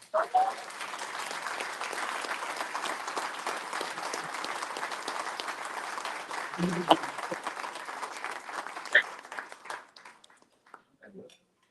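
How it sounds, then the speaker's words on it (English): An audience at the Arctic Refrigeration Night of Champions racing awards breaks into sustained applause, dense clapping with a few cheers and whoops, holding steady for several seconds and then thinning out to scattered claps. "Let's give a big round of applause for a young man, Justin Goley."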